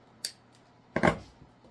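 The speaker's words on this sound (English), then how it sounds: "Cut off that extra cable tie." Scissors snip off the excess end of a cable tie on a Deco mesh heart-frame wreath, with two quick close cuts: a light click followed by a louder, fuller snip.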